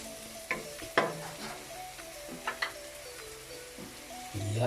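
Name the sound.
shrimp paste (alamang) sizzling as it is added to the pan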